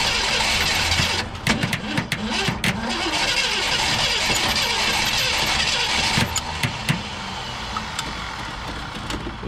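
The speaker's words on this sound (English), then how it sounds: "I'm going to turn the engine over until we can get" A 1967 Ford Galaxie 500 engine cranks over repeatedly on the starter, a rhythmic churning that runs throughout at close range, with bursts of sharper mechanical clatter and no voices.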